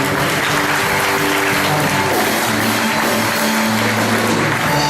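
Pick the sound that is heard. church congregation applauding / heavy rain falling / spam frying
church congregation applauding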